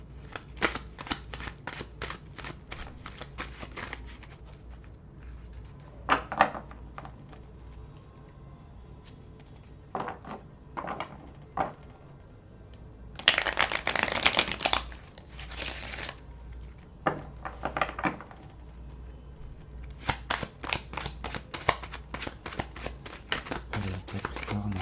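Tarot cards being shuffled close up in bursts of rapid riffling and crisp slapping, separated by quieter stretches, with no talk over them.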